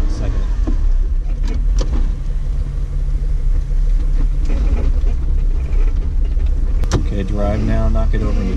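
A Jeep engine drones and rumbles loudly and steadily as it powers up a slippery mud climb on an off-road mudding trail, with a brief sharper burst partway through and faint voices under the engine noise.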